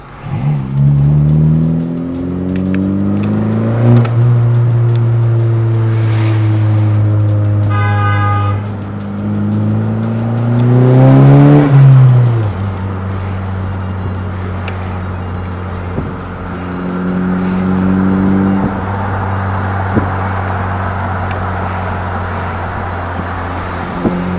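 A 2021 hatchback Sport engine with a PRL turbo inlet revs up and down repeatedly, with a droning exhaust note, rising whine and occasional turbo whoosh, close and loud throughout.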